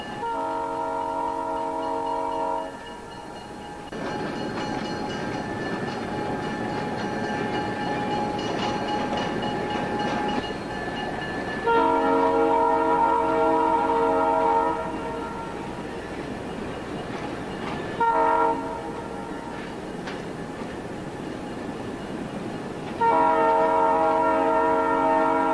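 Adirondack Centennial Railroad train rolling through woodland, a steady rumble under repeated long chords of the horn, sounded in several separate blasts between quieter stretches of running noise.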